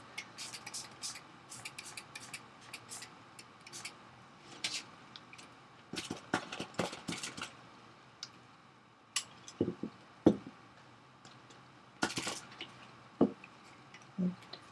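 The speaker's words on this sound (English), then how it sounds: "I'm just going to squirt out some water." A water bottle squirts water onto paint on a postcard, giving soft, quiet spritzes and drips in scattered short bursts, close up against a hushed room.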